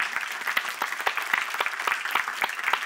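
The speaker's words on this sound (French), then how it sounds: "je pense que vraiment Agatha elle mérite encore beaucoup d'applaudissements" An audience at an event on animal intelligence gives a round of applause, brisk crackling claps from a modest crowd, fairly close, steady for a few seconds.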